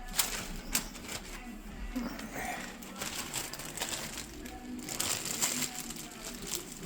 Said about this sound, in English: these are going to get smashed,